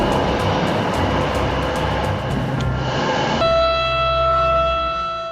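A train glides along a guided rail track through a station, giving a steady loud rumble that shifts abruptly partway through into a sustained whining, horn-like tone over a low drone.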